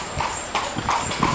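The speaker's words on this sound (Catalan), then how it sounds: "Estem aquí en un carro, amb un cavall" Horse hooves clip-clop on a city street as the horse pulls a carriage through Seville at night, giving a quick run of close, fairly loud hoof strikes over a low rumble of wheels and street noise.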